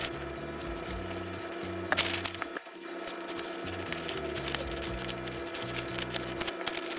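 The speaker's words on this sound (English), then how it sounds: "And then I'm going to cut the actual neckline of the front and the armhole." Scissors snip steadily through fabric up close, a run of crisp cuts with a short pause, over a low constant hum.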